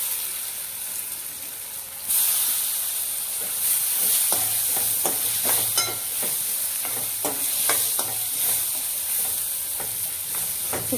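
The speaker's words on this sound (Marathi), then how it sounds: "हे बघा टोमॅटो पण छान फ्राय झालेला आहे, नरम झालेला आहे" Chopped tomatoes with red chili powder and turmeric fry in a pan, a bright steady sizzle that swells after a couple of seconds, punctuated by repeated spatula scrapes and taps as they are stirred, with no speech.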